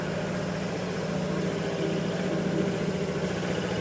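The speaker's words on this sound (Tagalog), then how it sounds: "Since cold start yan guys, expect nyo na medyo mataas pa yung idle yan." A Kymco S400 scooter engine idles high just after a cold start, giving a steady, continuous low hum with a fast even pulse, close by and unbroken, with no voices.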